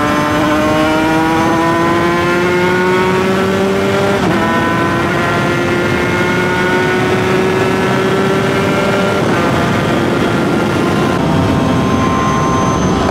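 A two-stroke motorcycle engine holds a loud, steady high rev, with brief dips in pitch as gears are shifted without the clutch, heard up close and alone with no talk.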